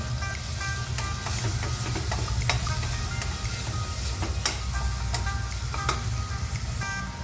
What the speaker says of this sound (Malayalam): ഇനി നന്നായിട്ട് തന്നെ ഒന്നുകൂടി ഒന്ന് മിക്സ് ചെയ്ത് കൊടുക്കാം